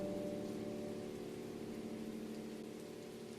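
Steady pouring rain in a scary story, a dense, even wash of rainfall with a low rumbling undertone, holding at constant loudness throughout with no voices.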